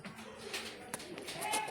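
Domestic pigeons coo softly in a few brief, low calls, faint and somewhat distant against a murmuring background.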